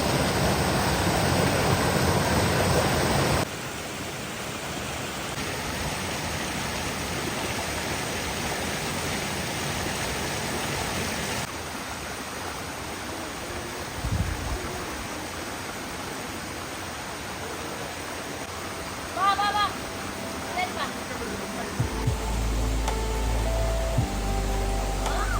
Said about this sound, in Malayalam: സ്ട്രൈറ്റ് ടു വെള്ളച്ചാട്ടം.